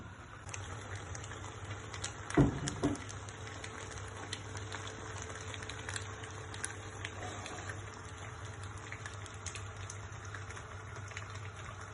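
Steady sizzling and crackling of a Neapolitan spaghetti frittata frying in a pan, a low continuous hiss with a brief clatter near the start.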